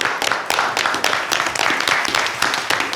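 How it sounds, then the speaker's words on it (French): Live audience at a French comedy show applauding two performers, loud close clapping with distinct individual claps and rhythmic surges running throughout. "On va applaudir fortement Sylvain et Florian du Lab de Landau, les amis."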